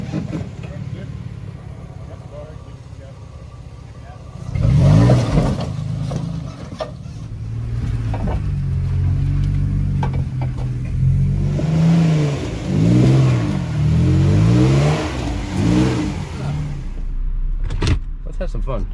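A Nissan Frontier pickup with a solid axle conversion, on a muddy Florida trail, its engine revving up and down in repeated rising and falling surges after a quieter idle, close and fairly loud.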